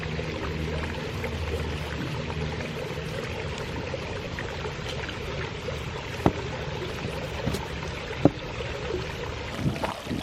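A garden fountain runs outdoors, water splashing and trickling in a steady wash with wind noise over it and a few faint clicks.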